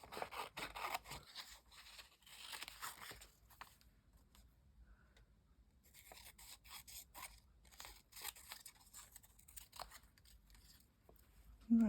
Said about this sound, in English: I'm just going to roughly cut this out.